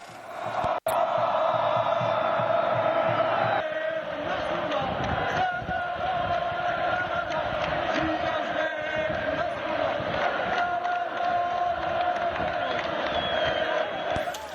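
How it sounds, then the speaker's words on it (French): Football crowd at the JSD versus MOB derby roaring and cheering, a loud continuous swell of massed voices with a sharp burst near the start and the din carrying on throughout. "Chaque tacle, chaque passe et chaque tir étaient accompagnés par des rugissements de la foule"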